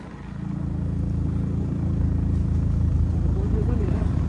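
A motorbike engine drones steadily and close on an uphill village road in Tanahun, Nepal, labouring under load. The low rumble holds without a break, with voices faintly underneath.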